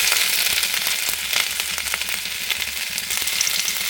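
Ginger sizzles and crackles steadily in hot coconut oil with popping mustard seeds, a dense, close, continuous frying hiss with no voices.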